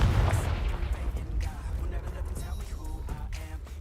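A Confringo fire spell in Hogwarts Legacy bursts with a loud, close explosive boom and a crackling fiery rumble that decays over a few seconds, along with game effects and a voice.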